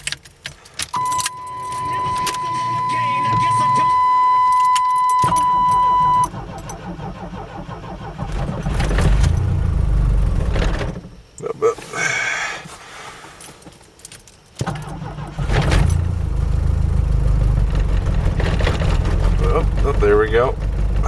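A snowbound 1991 Chevy S10 pickup with the 2.5 engine and 332,000 miles cranks on a cold morning, with keys jangling first, then the engine catches and idles loud and rough, close by.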